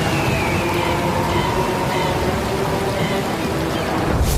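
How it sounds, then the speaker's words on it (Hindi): Heavy monsoon rain pouring steadily, a dense loud wash of hiss that holds constant for the whole stretch, with faint tonal hum beneath and no voices. "बारिश अपने चरम पर थी"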